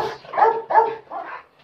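A dog barks aggressively at a man during attack training, four loud, close, rapid barks in quick succession.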